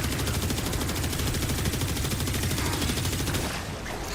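Rapid, sustained automatic gunfire fired at an enemy in Warframe, a dense, unbroken stream of loud close shots that rattles on for several seconds with no talking.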